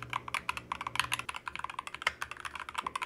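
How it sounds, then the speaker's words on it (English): Fast back-to-back typing on a keyboard fitted with budget PBT keycaps gives dense, crisp clacks in an irregular rhythm, close and clear, with a faint low hum underneath. "Here is back-to-back typing."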